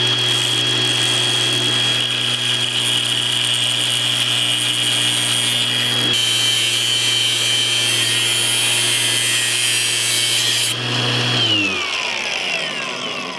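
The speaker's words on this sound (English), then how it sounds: "No bond survives an angle grinder." An angle grinder cuts through the titanium-aluminum frame of an iPhone 13 Pro Max, giving a loud, sustained high-pitched whine with a harsh grinding hiss. The pitch shifts partway through, and the tool spins down at the end.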